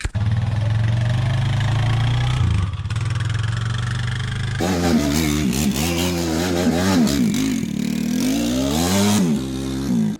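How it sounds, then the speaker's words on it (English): A four-wheeler's engine idles with a low throbbing rumble, then revs up and runs with rising and falling pitch as it drives out to a hay field, loud and close throughout. "we're just gonna run out to the field real quick on the four-wheeler"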